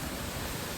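Water in a stream that feeds the Thoseghar waterfall near Mahabaleshwar flows with a low flow, making a steady close rushing hiss with no voices.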